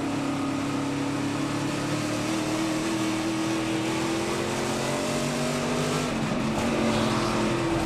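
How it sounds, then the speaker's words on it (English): Onboard engine of an ARCA stock car racing at Charlotte Motor Speedway, a loud continuous high drone of the engine at speed with steady pitch and a brief shift near the end, no talk. "That's Lawless Allen's on board, the General Tire on board"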